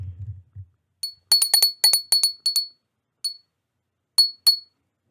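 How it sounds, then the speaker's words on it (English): Rapid, repeated strikes of a small hand bell give crisp metallic chimes in clustered bursts after a brief low murmur, ending with a few sparse rings. "I'm going to ring my bell so you know which group is yours"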